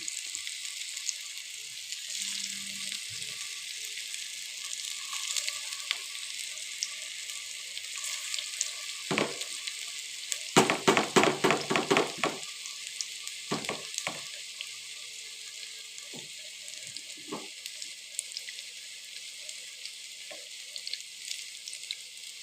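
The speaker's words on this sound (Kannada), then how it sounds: "ಆಲೂ ಟಿಕ್ಕಿ ಎರಡೂ ಕಡೆ ನೀಟಾಗಿ ಬೆಂದು ರೆಡಿ" Aloo tikki fries steadily in a pan of oil, a soft continuous sizzle with a louder burst of crackling and bubbling midway, no voices.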